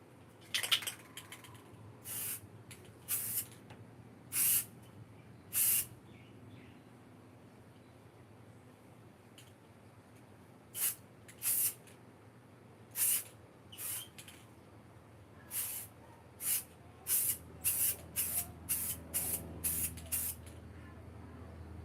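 Spray paint hissing from a can in repeated short bursts, over a dozen sharp, close sprays of about a second each, sparse early and then coming in quick succession, in a quiet room.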